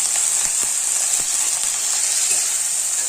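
Green beans and potatoes frying in a pan with turmeric, chili powder and salt, giving a loud, constant hiss and sizzle with faint scattered crackles.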